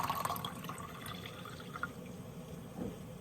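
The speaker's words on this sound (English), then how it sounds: "So let's mix in our cold water." Cold water is poured into a bowl of Jello mix, a soft splashing, gurgling stream that runs steadily for a few seconds with no talking.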